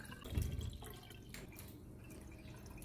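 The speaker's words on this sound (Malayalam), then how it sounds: "ഞാനത് കൊണ്ടുവന്നതിന് ശേഷം രണ്ടാമത്തെ പ്രാവശ്യമാണ് കേട്ടോ വെള്ളം മാറ്റി കൊടുക്കുന്നത്." Water is poured into a holder for a money plant cutting, giving a brief splash and then faint scattered drips in a quiet room.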